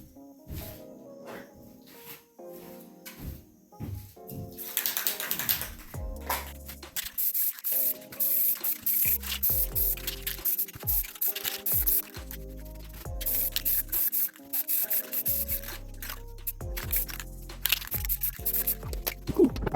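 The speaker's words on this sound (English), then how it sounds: "So I'm gonna go ahead and spray this out" Spray can laying down a camouflage coat on a shotgun, short hissing bursts repeated in quick succession, close and fairly loud, with small clicks and rustles between sprays.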